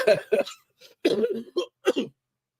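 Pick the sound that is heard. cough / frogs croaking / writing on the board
cough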